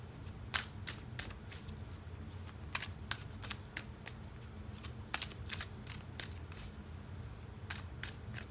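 Angel Answers oracle cards being shuffled by hand, giving a steady run of crisp, quick card snaps and riffling clicks up close, with no talking.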